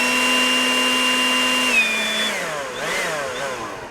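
Craftsman V20 RP brushless battery leaf blower (CMCBL730P1) running at full speed: a loud, steady electric whine with strong harmonics that slides down in pitch as the motor winds down, with no talk.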